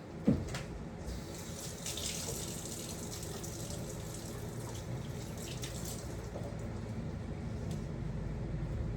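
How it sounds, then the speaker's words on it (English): Kitchen tap running steadily into a sink while hands are washed, a close continuous splash with faint shifts as the water hits the hands, no talking. "Let me wash my hands real quick."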